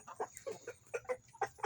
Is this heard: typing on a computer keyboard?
no